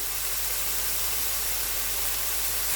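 Marinated singhi catfish stir-fried in a pan for a village-style bhuna, giving a steady, even hiss and sizzle that holds unchanged for the whole stretch, close and fairly loud, with no voices.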